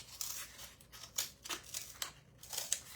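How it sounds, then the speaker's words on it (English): Scissors snip through cardboard in a series of short, crisp cuts with a steady rhythm, close up and fairly quiet, while a strip is cut for making yarn pom-poms. "And then I'm going to cut it so it's 2 inches"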